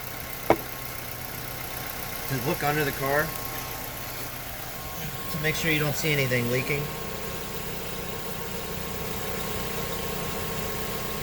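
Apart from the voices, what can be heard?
used car engine running at idle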